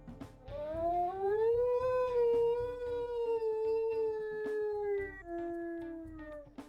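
A higher-pitched wolf howl from WolfQuest rises into a long, clear sustained tone, then steps down to lower held notes before fading, heard alone over about six seconds.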